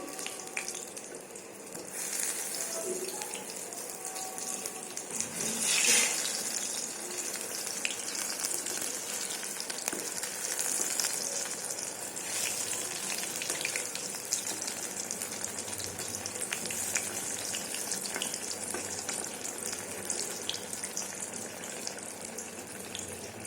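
Pointed gourd and pumpkin slices fry in a pan of mixed mustard and refined oil, giving a steady, close sizzle with light stirring and clatter throughout, with one brief louder burst early on.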